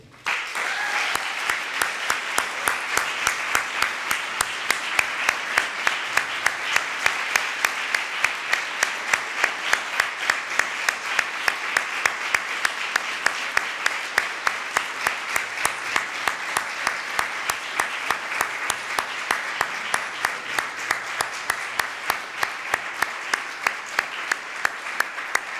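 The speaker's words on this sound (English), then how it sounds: "I would like to ask you to pass them all a warm round of applause to thank them." Sustained, even applause from a large graduation ceremony audience, a dense wash of clapping that holds steady for the whole stretch at moderate loudness.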